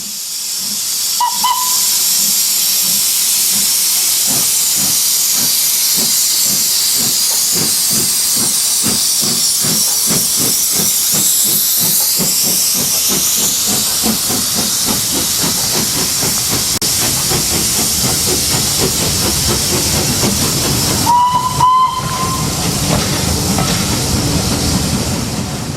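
Steam locomotive The Great Marquis standing at a station on an August charter, hissing loudly and steadily throughout, with rhythmic chuffing pulses in the middle and two short, sharp whistle blasts, one early and one near the end.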